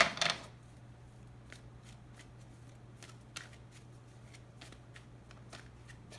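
Tarot cards being shuffled for a reading, a quick riffle burst at the start followed by soft scattered card taps and slides in a quiet room.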